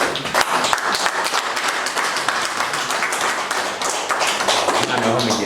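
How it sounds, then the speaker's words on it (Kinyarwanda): Applause at a church leadership handover ceremony, a dense crowd of hands clapping steadily and fairly loud for several seconds, with some voices mixed in. "Ndagira ngo bahagurukane mu amashyi bose."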